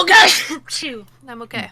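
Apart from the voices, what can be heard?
sneeze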